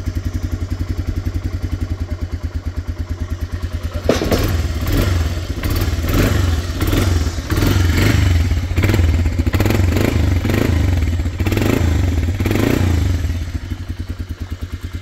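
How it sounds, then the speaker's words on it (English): An antique workhorse vehicle's engine starts about a third of the way in and then runs steadily, loud and close, with a clattering, thumping idle and no talking. "I hit the start button and she fired up right away."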